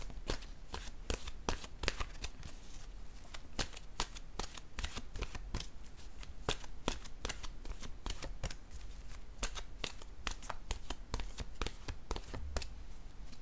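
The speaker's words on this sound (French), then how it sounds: "Je vais piger une nouvelle carte de mon oracle de l'âme intuitive." Oracle cards from an intuitive-soul deck are shuffled and drawn in a steady run of crisp, rapid card riffles and flicks, close and fairly loud, continuing for the whole stretch with no voices.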